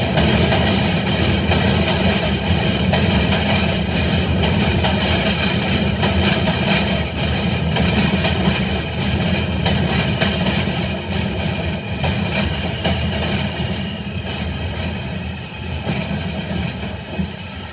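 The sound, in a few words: New York MTA subway E train (R160) passing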